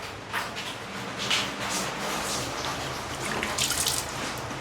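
Water pours and splashes steadily into a fish tank being refilled after cleaning, with gurgling bursts rising and falling throughout, close by and fairly loud.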